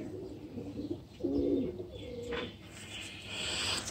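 A pigeon kept in Lahore gives soft, throaty coos in a few short, rolling phrases close by, with faint background noise and no speech.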